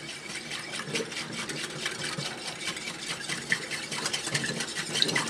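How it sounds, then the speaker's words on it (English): Dry spice ingredients, including ground black pepper, are whisked together in a bowl for a Lexington-style barbecue sauce, making a rapid, continuous, close scratchy rattle with no speech. "You just take a whisk and you combine them all together."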